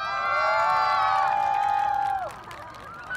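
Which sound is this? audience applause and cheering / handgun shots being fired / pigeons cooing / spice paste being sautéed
audience applause and cheering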